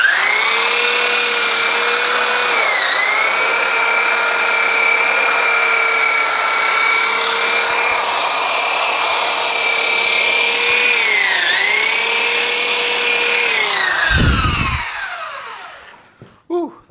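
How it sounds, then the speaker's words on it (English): A belt sander fitted with coarse 36-grit paper rounds the sharp corners of a wooden workpiece, giving a loud, steady whining roar that dips slightly under load a couple of times before spinning down near the end. "with the belt sander. And I'll just make a nice gentle curve"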